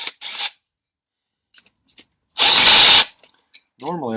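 Short bursts from an air impact gun backing screws out of a Carter AFB carburetor, a brief rattle near the start and a louder sustained burst midway, with scattered small clicks of metal parts between and a short voice at the end.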